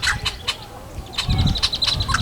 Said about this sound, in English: This is a yellow-headed blackbird, which in Blackfoot is called Soiksina.